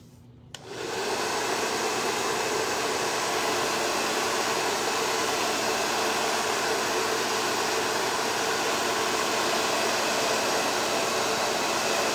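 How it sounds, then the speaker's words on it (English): A hair dryer blows hot air onto wet paint at a paint party, switching on with a click and then holding a loud, steady whoosh and whine for the rest of the clip. "I'm gonna take my hair dryer"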